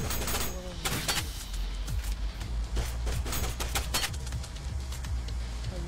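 Gunfire in the VR parkour shooter game STRIDE, with sharp shots fired in an irregular series over a constant game background din.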